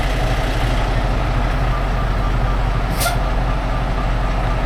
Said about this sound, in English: Release all your brakes.